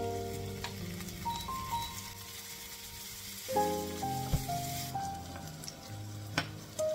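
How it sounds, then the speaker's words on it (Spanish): Chopped ham browning in a frying pan, giving a continuous close crackling sizzle with occasional stirring scrapes and small pops throughout, no voices. "Voy a dorar un puñadito de jamón picadito."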